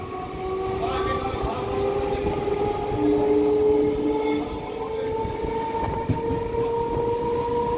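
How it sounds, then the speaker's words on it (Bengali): A Howrah–Tarakeswar local train rumbles steadily along the tracks arriving at Haripal station while a long horn sounds in sustained tones; heavy wheel noise fills the background throughout. "আমাদের ট্রেন এসে পৌঁছালো যাত্রাপথের একটা অন্যতম স্টেশন হরিপালে"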